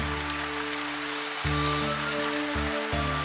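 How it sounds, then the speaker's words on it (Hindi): Heavy cartoon rain falls in a steady hiss, with a low musical drone pulsing beneath it in repeated held chords. "तेज बारिश ने उसको अपनी लपेट में ले लिया"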